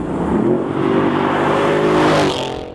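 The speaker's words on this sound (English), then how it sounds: "there are not a lot of cars out there that will fully break the tires loose from a 40-mile-an-hour roll." A 700 HP RennTech-tuned Mercedes CLS63 AMG accelerates hard from a rolling start as its tires break loose, a loud, sustained engine roar with a rising rasp before it eases off.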